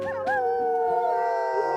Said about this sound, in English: That was Lightning starting off the howl for the morning.